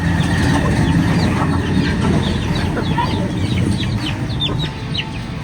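Farm ducks calling: scattered short, nasal calls from several birds over a constant rumbling background, fairly near and moderately loud.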